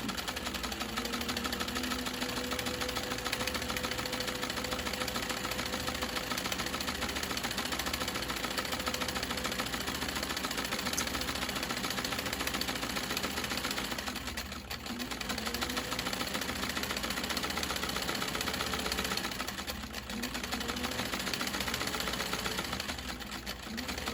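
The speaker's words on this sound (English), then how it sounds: "I always keep that handy right next to my sewing machine" A sewing machine runs continuously with a steady mechanical whir and rapid stitching rhythm while sewing a scrunchie, pausing briefly twice before resuming.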